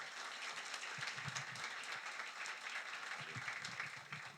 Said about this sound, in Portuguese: Salva de palmas aqui para o Crua.